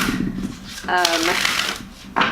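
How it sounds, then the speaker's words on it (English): Tarot cards being shuffled by hand, a steady papery riffling and sliding close to the microphone, with a voice briefly heard partway through. "while I'm shuffling these cards"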